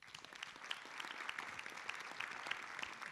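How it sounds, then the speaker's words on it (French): An audience at an interview with a Château Angélus winemaker claps warmly, a steady, even patter of many hands sustained throughout, fairly quiet and heard from a distance. "je vous demande donc d'applaudir chaleureusement Monsieur Hubert Deboire"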